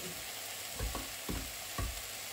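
A knife cutting peeled tomatoes on a board, four evenly spaced thuds over a steady background hiss, close with no talking.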